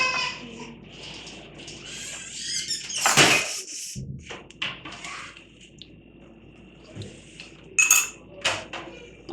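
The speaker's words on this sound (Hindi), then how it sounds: "ये देखिए, कुछ पाउडर को मैं अच्छी तरह से मिक्स कर रही हूँ।" Powder being mixed by hand in a bowl for gulab jamun dough, with intermittent scraping, clinks and squeaky rubs against the bowl, moderately quiet with brief louder bursts and pauses.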